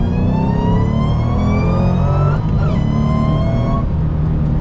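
A 2007–2009 Ford Shelby GT500 engine revs loud and steady at high RPM, its pitch climbing and dipping while the clutch is held in during a troubled shift, with no talk over it.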